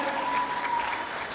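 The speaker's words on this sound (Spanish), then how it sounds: "Aplauso, aplauso." Audience applause at a dance school's graduation and end-of-year certificate ceremony, a steady wash of many hands clapping at close range with a faint tone running through it.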